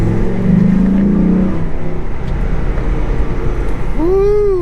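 A Dodge Ram SRT-10 pickup truck sits close by with its engine grumbling at a steady rumble, then revving up sharply in a rising surge at the end.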